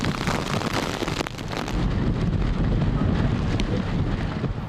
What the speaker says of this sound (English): Gusts pounded the area.